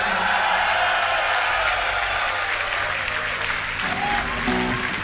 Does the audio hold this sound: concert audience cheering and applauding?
yes